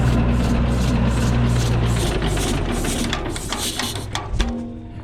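An old John Deere A tractor that sat for three years runs with a loud, low, throbbing engine note that loosens and falters after a couple of seconds, turning ragged and uneven toward the end.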